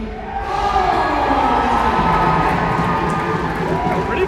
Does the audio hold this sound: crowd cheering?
yes